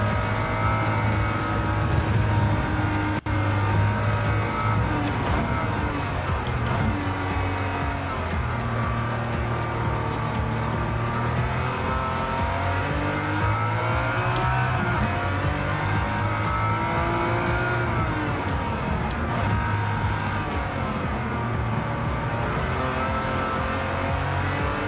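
Jaguar E-type race car in Gran Turismo 7, its engine droning steadily and loudly throughout, pitch rising and falling through gear changes with continuous revving and no talk.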